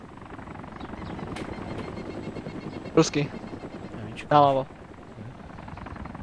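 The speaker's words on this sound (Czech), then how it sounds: "Další vrtulník. Druhý vrtulník." In the video game DayZ Mod, a helicopter drones as a steady low rotor rumble that runs through the whole stretch, while someone talks briefly over it and a couple of short sharp sounds break in.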